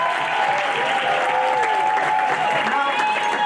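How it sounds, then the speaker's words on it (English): A crowd at a readathon event applauds the winners with loud, sustained clapping, while voices call out and chatter above it throughout. "Let's give them a round of applause again."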